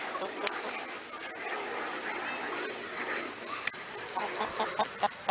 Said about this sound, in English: There's my little banty chickens over there.